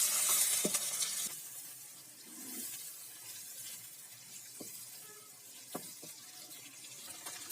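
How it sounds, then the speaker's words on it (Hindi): Chopped onions sautéing gently in a pan, a soft, faint sizzle with a few light clicks of stirring and a brief brighter hiss at the start. "प्याज को ज़्यादा ब्राउन नहीं करना, इसको तकरीबन 5 मिनट इसमें रखना है।"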